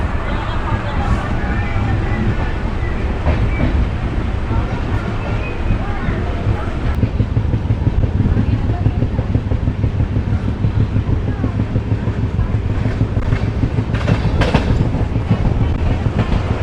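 An express passenger train, the 14505 Nangal Dam Express, runs fast along the rails past hills at dusk, with a loud continuous rumble, a low drone and rapid clickety-clack from the wheels on the track, heard from on board.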